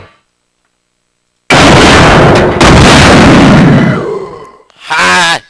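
A rocket launcher shot slams into a licker in Resident Evil 2, giving a loud booming blast with a long rumbling decay after a silent start, and a short growling creature cry follows.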